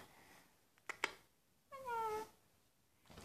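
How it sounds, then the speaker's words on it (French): A young kitten gives one drawn-out, wavering meow, close and clear, after a couple of sharp clicks, with another quieter call starting at the very end. "je vais vous montrer mon nouveau petit chat"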